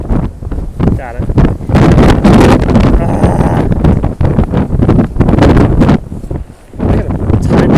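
Typhoon Hato's strong winds batter Hong Kong, roaring gusts buffeting the microphone in loud, uneven surges with brief lulls between them.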